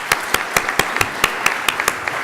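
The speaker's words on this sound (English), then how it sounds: "Let's give a round of applause for Monzy." Sparse applause from a conference audience welcoming a keynote speaker, a handful of distinct separate claps at a moderate distance, thin and brief.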